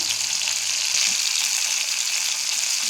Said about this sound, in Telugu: దోసకాయ పచ్చడికి టమాటాలు పచ్చిమిరపకాయలు మగ్గుతున్నాయి